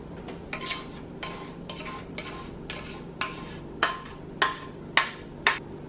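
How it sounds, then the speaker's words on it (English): Cooked spaghetti goes into a big mixing bowl for a seafood salad, with about nine close, sharp clinks and scrapes of a utensil against the bowl. The knocks come in an uneven rhythm, and no one speaks. "We're going to first add the spaghetti."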